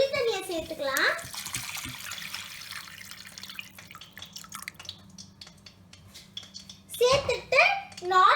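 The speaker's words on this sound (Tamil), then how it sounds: "இப்போ இந்த ஸ்டேஜ்ல நம்ம கரைச்சி வச்சிருக்க புளி தண்ணியை சேர்த்துக்கலாம்." Tamarind water is poured into a pan of simmering karuvattu kulambu, a dried fish curry, making a brief splash and trickle near the start, followed by lighter drips and stirring under someone talking.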